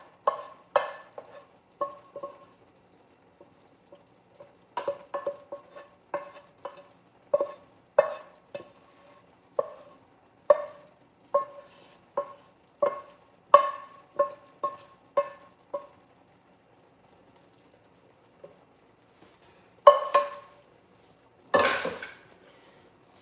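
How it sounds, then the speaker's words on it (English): Cooked okra scraped off a pan: a long run of close, irregular scrapes and metallic clatters with short pauses, ending in a few louder, harsher knocks. "I'm just scraping everything off the pan"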